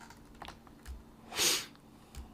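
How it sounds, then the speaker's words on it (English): Sparse keystrokes on a computer keyboard while writing C++ code, a few quiet close clicks spread out with one louder hiss-like burst in the middle, no speech. "Keep typing, folks."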